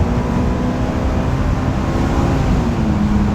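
A Honda S2000 engine drones steadily under load in third gear, a constant in-cabin hum with wind and road roar and only a slight rise in pitch toward the end.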